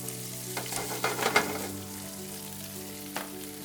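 Burke breakfast sausage fries in whole butter and olive oil, a close, even sizzle with a few spatula scrapes and stirs clustered early and one more near the end, no voices.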